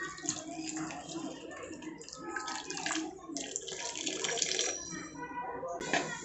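Hot water splashes and gurgles steadily into a pan of soaked whole masoor lentils for a dhaba-style curry, a continuous close pour running for several seconds.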